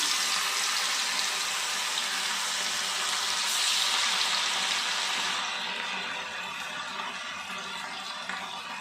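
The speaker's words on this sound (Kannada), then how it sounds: "ಎಣ್ಣೆಯಲ್ಲಿ ಕರಿಯೋಣ ಅಂದ್ಬಿಟ್ಟು ಎಣ್ಣೆ ಇಟ್ಟಿದ್ದೀನಿ. ನೋಡಿ, ಒಂದೊಂದಾಗಿ ಮೀನು ಹಾಕ್ತೀನಿ." Coated fish fries in hot oil with a loud, continuous hissing sizzle that stays dense and close, easing slightly in the last few seconds, with no talking.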